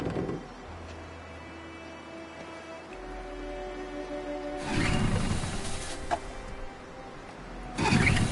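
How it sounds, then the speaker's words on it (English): A boat engine in the video game Detroit, played on PS5, turns over and catches with a rough, low roar that swells in two surges over a quiet, droning background. "Let's get that engine going."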